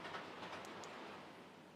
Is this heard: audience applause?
no